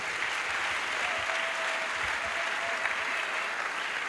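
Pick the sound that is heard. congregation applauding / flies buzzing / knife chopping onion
congregation applauding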